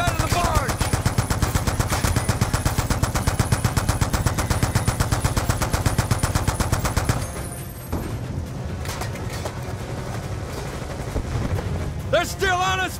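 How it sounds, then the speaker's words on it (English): Barge-mounted machine guns in Call of Duty Black Ops 2 blaze away in a long, rapid, loud stream of shots for several seconds, then drop to quieter battle noise with more scattered firing toward the end. "Keep fire on them! Don't let them get aboard! They're mounted MGs on each side of the barge!"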